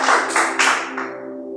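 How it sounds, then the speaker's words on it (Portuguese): A church congregation claps for Jesus in a few quick bursts of hand claps that fade out with a ringing tail. "Palmas para Ele, porque Ele merece isso"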